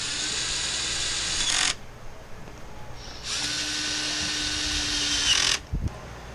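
A cordless power driver whirs loudly in two long bursts, fastening screws that hold the starter onto a Husqvarna 125b leaf blower, with a brief pause and a few handling clicks between them.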